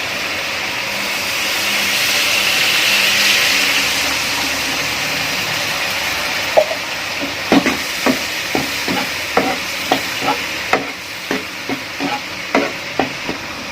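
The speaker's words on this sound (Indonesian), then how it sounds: "Kita masukkan sedikit air." Water poured into a bok choy and garlic stir-fry sets off a broad sizzling hiss in the pan, followed by a steady run of sharp, rhythmic scraping clicks as the spatula stirs, close and fairly loud with no talk.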